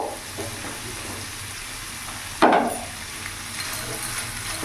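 Carrots and onion stems sizzle and fry steadily in a pan over a medium gas flame, with one louder burst of hiss as the vegetables are stirred partway through.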